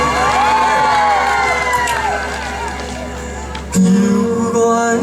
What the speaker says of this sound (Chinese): 再给我们弹错热情的掌声加尖叫声。